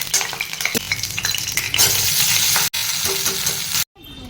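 Potatoes frying in a pan, with loud close sizzling and scraping stirs, sharp clatters of the spatula, and brief drops to near-silence near the end.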